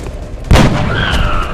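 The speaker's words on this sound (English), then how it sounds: "Let's make it a headshot" A single loud gunshot rings out from a soldier's rifle in the turn-based strategy game XCOM: Enemy Within, a sharp close boom followed by a lingering tonal ring over low game ambience.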